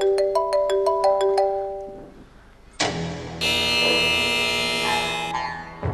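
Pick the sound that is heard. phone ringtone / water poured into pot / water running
phone ringtone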